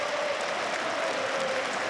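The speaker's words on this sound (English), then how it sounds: "Good round of applause from the Sunderland fans for him" Sunderland football fans in a stadium applauding a player during a match against Birmingham City, a dense, steady wash of distant clapping from a large crowd.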